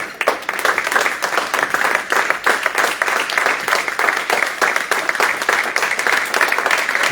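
A church congregation at a teaching service claps and cheers in praise, dense steady applause filling the room for several seconds with a continuous rhythmic texture.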